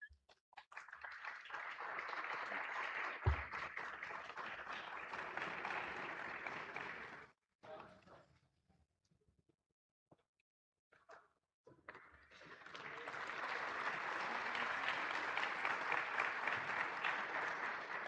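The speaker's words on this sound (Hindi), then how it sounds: "तालियां बजती रहे" Sustained audience applause at a railway award ceremony during a shield presentation, a long steady round of clapping that drops to near silence for several seconds, then swells back up and continues strongly to the end.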